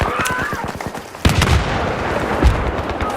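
Gunfire from an amphibious tractor in a video game: quick repeated shots early on, then a sudden loud blast that gives way to sustained, dense firing and rumble at close range.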